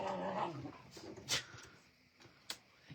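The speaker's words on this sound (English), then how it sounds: "the dogs are fighting" Dogs scuffle indoors with low growls, snarls and a couple of sharp yelps, irregular and fairly faint, with brief bursts rising out of quiet stretches.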